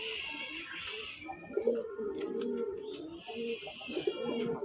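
Pigeons on a farm housing local and red crested Bombay breeds coo in soft, low, rolling calls, several overlapping throughout at moderate distance, with faint chirps and background hiss.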